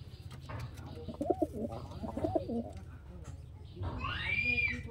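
Soft, low cooing from Rampuri pigeons repeats twice over a steady background hum, with a higher bird call rising near the end.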